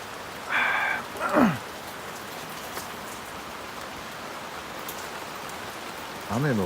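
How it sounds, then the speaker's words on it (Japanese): Heavy downpour drumming on a tarp pitched over a campfire setup at night, a steady dense hiss throughout, with brief bursts of a voice over the rain near the start and end. "ゲリラ豪雨来てるんですよね。"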